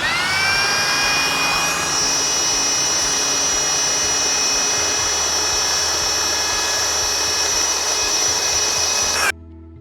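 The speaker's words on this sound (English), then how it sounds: "get the belt sander going and just hit the edge of the tooth to give it a nice little point" Belt sander grinding a point onto the teeth of a comb made from a skateboard deck, a loud, steady, close roar with abrasive hiss that holds for about nine seconds and then stops suddenly.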